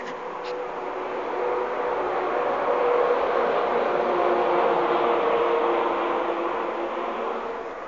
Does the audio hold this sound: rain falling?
no